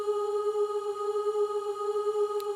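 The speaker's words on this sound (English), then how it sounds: "417 hertz, okay, on the Solfeggio scale is really about undoing situations that" A steady 417 Hz Solfeggio tone at G4 sharp holds as one pure, unbroken sustained pitch with faint overtones, moderately loud and alone.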